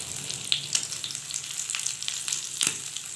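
Chicken tikka sticks sizzle steadily in a pan over low heat, a close crackling hiss broken by a few sharp scraping clicks as the pieces are turned, with no voices.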